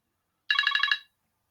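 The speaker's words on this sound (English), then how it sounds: "Excuse the phone." A telephone rings during a psychology lecture: one short, bright, warbling ring burst of about half a second, sounding alone against silence and fairly faint.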